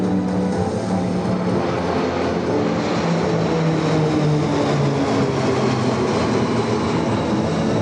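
A formation of military training aircraft passes at a South Texas air show, producing a loud, continuous engine roar throughout with no talking.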